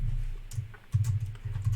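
A computer keyboard is tapped in short, close bursts of key clicks while a username is entered, with a brief pause midway and a low background hum.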